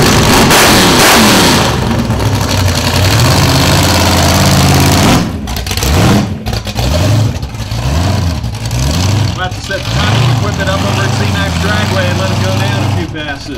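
A supercharged 572-cubic-inch all-aluminum Hemi of about 1,000 horsepower in a Dodge Charger at a Goodguys car show in Charlotte revs hard again and again. The engine is loud and very close, roaring and dropping back, with voices faintly underneath.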